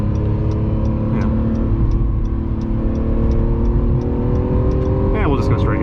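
A 2020 Acura NSX supercar engine hums at steady revs while driving, a sustained tonal drone with a brief rising rev near the end, and light ticking over it.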